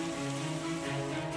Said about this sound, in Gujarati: તો મંગળવારે સવારથી જ અરવલ્લી જિલ્લામાં વરસાદે જમાવટ કરી.